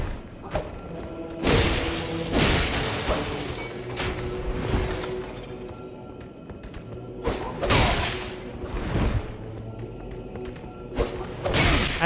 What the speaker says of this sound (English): Another one of these friggin' guys with the exploding bolts.